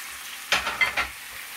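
Pork goes into a pan with fried bacon, garlic and paprika, giving a brief sizzle and a few scraping stirs, moderately close and with no voices.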